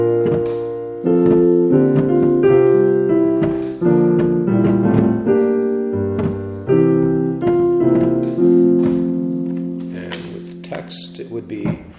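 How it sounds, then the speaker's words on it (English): Sung Benedictus tone chant for the Gospel Canticle at morning prayer, a voice carrying a steady melodic line of sustained pitched phrases with brief breaths between them. "One of them is called the Benedictus tone, and it is obviously used to sing the Gospel Canticle at morning prayer"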